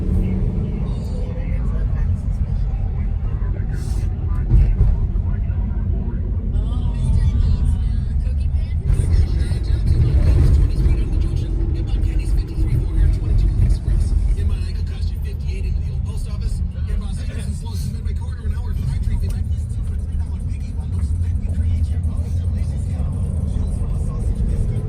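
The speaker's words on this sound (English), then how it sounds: "So I'm in the airport shuttle, in the front seat, which is good." Airport shuttle van driving through Chicago, heard from the front seat as a steady low engine and road rumble throughout, with a person talking over it.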